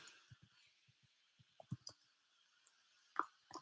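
Typing on a computer keyboard during a live trading market analysis session: sparse, quiet clicks in small irregular clusters, close but soft, with near silence between them.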